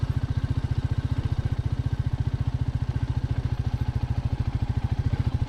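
A Royal Enfield Meteor 350 single-cylinder engine chugs off-road in second gear, a close, steady, rapid low thump of even firing pulses that keeps up without pause.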